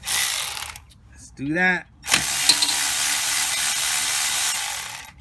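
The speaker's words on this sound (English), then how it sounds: "just clamp on it and then get after it with the cordless." A cordless power tool spins needle-nose vise grips clamped on a part during front brake work on a 2018 BMW X2 xDrive28i, a long steady ratcheting whir after a short spoken remark and an earlier brief burst.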